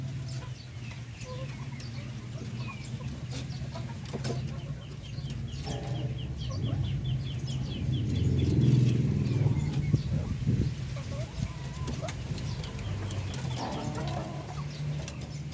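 Hens in a large coop clucking softly and intermittently over a steady low background hum, fairly faint and without speech.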